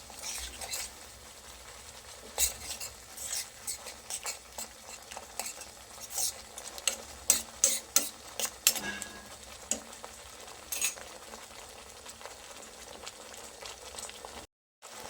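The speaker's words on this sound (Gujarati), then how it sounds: "હવે બધું સરસ મિક્સ કરી થોડી વાર માટે સરસ કૂક થવા દઈએ." Spicy red momos chutney simmering in a pan on a gas flame, a spoon stirring and scraping with soft bubbling and sizzling underneath, fairly close, with no talking.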